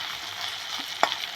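Ginger, garlic and methi frying in a pan, a steady close sizzle throughout with a brief sharp clink near the end.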